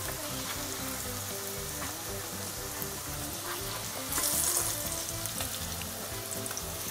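Corn flatbreads fry in a pan with a steady, dense sizzle that holds for the whole stretch, swelling briefly louder for a moment near the end, with no voices.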